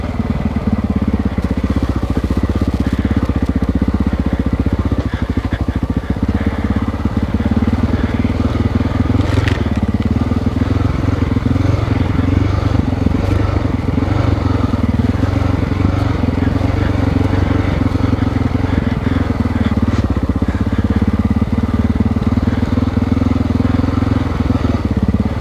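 Honda XR600R dirt bike pulls steadily in second gear on a downhill trail, its engine a loud, continuous close-up drone with wind and rattle through the whole ride.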